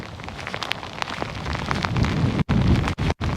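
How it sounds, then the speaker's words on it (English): Heavy rain falls outdoors at night, a dense, steady close-up hiss that swells slightly midway and cuts out briefly a few times near the end. "And the rain's horrible as well, so I'm going to be soaking by the time I get home."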